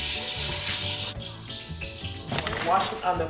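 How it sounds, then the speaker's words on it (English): Cold tap water runs steadily into a pot as jasmine rice is rinsed by hand, a close splashing gush that turns more agitated near the end. "Wash it under cold water."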